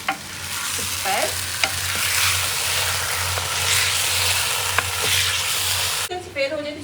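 Chicken frying in a pan for Andhra chilli chicken curry, a loud continuous sizzle with periodic stirring scrapes, then the hiss cuts out near the end as a voice briefly speaks.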